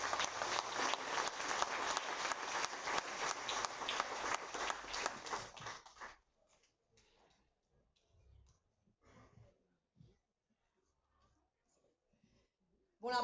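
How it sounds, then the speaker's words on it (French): Audience applause at a public ceremony with a dignitary, a steady wash of clapping for about six seconds that fades out, leaving faint scattered noises and a quiet room. "Je vous demande tous d'applaudir très très fort"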